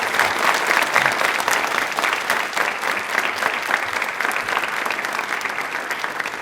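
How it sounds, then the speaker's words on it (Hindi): Studio audience at a televised quiz show bursts into dense, steady applause, loud and sustained for several seconds with no talking over it. "तालियां अपने लिए एक बार जोरों से बजा दीजिए।"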